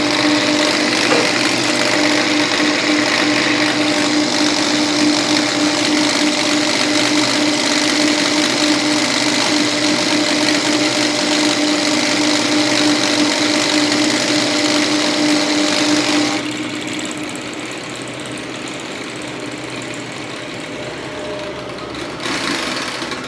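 Mercedes 603/606 diesel engine with its stock injection pump held at full throttle, a loud steady droning roar that drops to a lower, quieter hum near the end.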